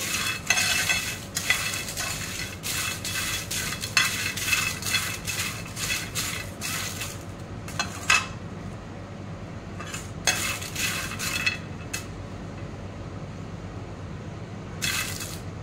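Tamarind leaves and red chillies dry roasted in a pan without oil, with a spatula scraping and clinking against the metal in busy bursts over a soft continuous hiss, the clatter pausing briefly and resuming.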